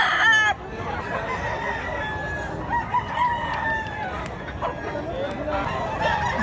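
Gamefowl stags at a sale in Mantalungon, Cebu, crowing repeatedly and clucking in a busy outdoor setting, with someone talking over them.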